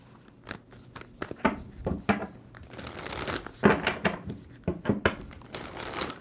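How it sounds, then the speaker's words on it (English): A deck of tarot cards is handled and shuffled during a reading, giving irregular crisp riffling and rustling bursts up close, with no talking. "2 more shuffles for Sagittarius"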